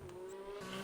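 A race car in a racing video game locks its tyres under braking, giving a sustained, steady squealing tone over engine noise for just under a second, with no talk.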